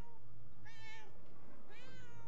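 A cat in the video game Murdered: Soul Suspect gives two short, clear meows about a second apart over a low steady background hum.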